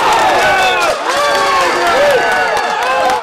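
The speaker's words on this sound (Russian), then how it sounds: "Опасные моменты и голы сопровождаются бурными овациями." A stadium crowd of football fans at a match cheers and applauds loudly and steadily, with shouts and whistles rising over a dense, continuous roar.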